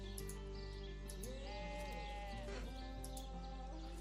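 Sheep bleating inside the fantasy role-playing game Divinity: Original Sin, a few wavering, nasal calls over a steady hum of game ambience and music, heard alone without talk.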